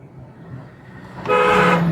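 A car horn sounds once, a short loud toot that starts abruptly and holds to the end, after a stretch of quiet engine hum.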